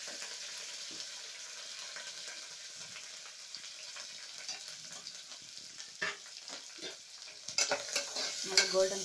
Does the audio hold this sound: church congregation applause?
no